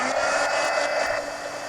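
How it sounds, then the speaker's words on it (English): A heat gun blows hot air in a steady, close, broadband whoosh with no break, heard alone. "let me hit this with the heat gun"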